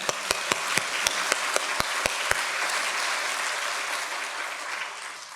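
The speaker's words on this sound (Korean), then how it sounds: "우리 찬양대 박수 한번 쳐줄까요?" A church congregation applauds its choir, with a few sharp, distinct claps at the start building into a steady, moderately loud round of clapping that carries on without any talking.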